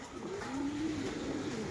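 A racing pigeon gives one soft, low, drawn-out coo close by against a quiet background, on a rainy day.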